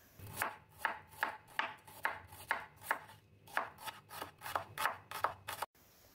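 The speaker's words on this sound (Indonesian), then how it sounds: "Adapun bumbu yang diiris ada 5 siung bawang merah" Five shallot cloves are sliced with a knife on a board in a quick, even rhythm of about sixteen crisp cuts, close and distinct, ending abruptly.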